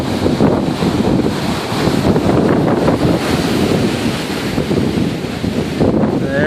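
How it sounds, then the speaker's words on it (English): Tropical storm surf pounds against a levee in a continuous, loud roar of breaking waves, heavily mixed with gusting wind buffeting the microphone throughout. "You can see the waves smashing against it."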